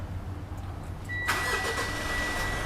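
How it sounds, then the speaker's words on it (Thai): A Mitsubishi RalliArt car engine cranks and catches about a second in, then settles into a steady, close mid-pitched idle with a high whine running over it. "สตาร์ทรถเลยดีกว่า"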